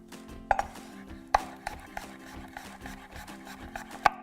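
A knife cuts fine slices through a fresh, firm apple with its skin on, leaving three sharp, crisp snaps spaced apart over a low steady background hum, with faint rubbing between the cuts.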